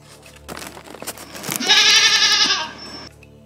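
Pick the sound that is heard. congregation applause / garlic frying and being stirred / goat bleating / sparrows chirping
goat bleating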